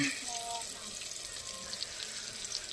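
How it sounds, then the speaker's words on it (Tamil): Ginger garlic paste sautéing in a pan for goat intestine gravy, giving a steady, soft sizzle and frying hiss that runs continuously at close range. "இந்த இஞ்சி பூண்டு ஸ்மெல் வந்துட்டு நமக்கு போகிற வரைக்கும் கொஞ்சம் இதை வதக்கி எடுத்துக்கலாம்"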